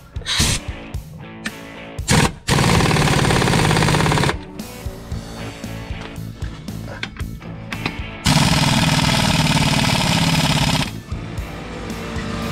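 A Polaris General 4 1000 UTV engine, with a new clutch kit fitted and the clutch cover off, rumbles at idle and then surges into two loud, sustained revving bursts before settling back to a lumpy idle.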